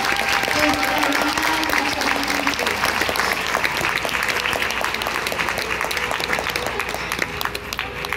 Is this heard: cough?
no